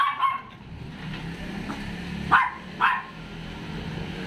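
Two sharp dog barks ring out a short distance away, separated by about half a second, over a low steady outdoor background hum.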